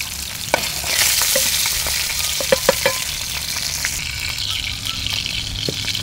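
Water lily stems (shapla) fry in a pan during rural Bengali home cooking, a steady close sizzle broken by several sharp clinks and scrapes as a utensil stirs the pan.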